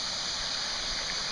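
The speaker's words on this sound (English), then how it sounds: "This is the kind of road we've been riding on, crossing back and forth over this creek" Creek water flowing steadily along a back road crossed on dual-sport motorcycles, a continuous close rushing and gurgling wash with no talk over it.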